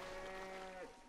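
Cow in the video game Hunt: Showdown lowing with a single sustained tonal moo, faint and somewhat distant, fading toward the end.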